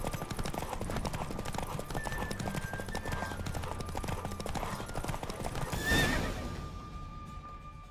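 Roach, a horse in the video game The Witcher 3, gallops in a race with a fast, steady run of hoofbeats under rushing wind, then gives a loud whinny before the hooves fade.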